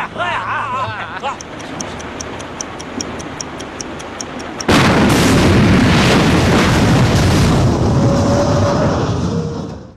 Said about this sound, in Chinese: 206渔船在开出半小时后爆炸了